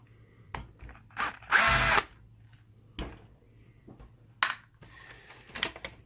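A power screwdriver whirs once, loud and close, for about half a second while backing a screw out of a Sharp PG-M10X DLP video projector during a teardown. Scattered light clicks and handling noises sit around the burst.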